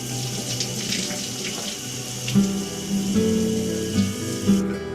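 Water running from a shower in a home bathroom during a morning routine, a steady rushing spray with some clatter and shifts in tone as it hits surfaces, close and fairly loud.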